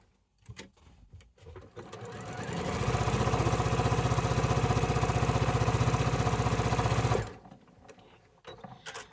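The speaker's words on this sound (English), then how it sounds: "Take the sewing machine, sew down that seam." A sewing machine sews a quilt block seam, running steadily for several seconds with a fast, even mechanical whir, starting and stopping with faint clicks around it.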